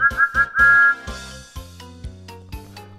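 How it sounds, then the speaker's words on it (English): Thomas the Tank Engine's steam whistle gives several short, high peeps in a row, then a longer one. Lower musical tones and soft chimes follow. "Thomas's whistle is going peep"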